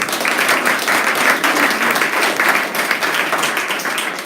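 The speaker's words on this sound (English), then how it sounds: "Give a round of applause." An audience claps steadily for the new members who joined in August, a dense, even wash of applause filling the room throughout.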